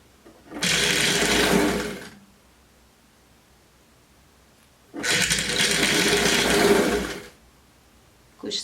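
Two separate bursts of rapid, buzzing sewing machine stitching join cardigan pieces, each lasting a couple of seconds with silence between.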